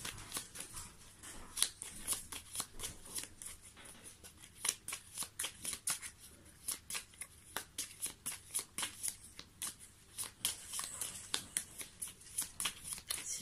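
Tarot cards being shuffled close up in quiet, repeated crisp flicks and riffles, a steady irregular patter of papery snaps over a hushed room.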